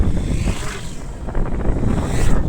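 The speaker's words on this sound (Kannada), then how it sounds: "ನೀವು ನೋಡ್ತಾ ಇರ್ಬೋದು, ಬೈಕ್ ಮೇಲಿದ್ದೀನಿ." Riding a motorbike on the way to farm fields, with loud, continuous wind buffeting the microphone and a low engine rumble beneath it, no talking.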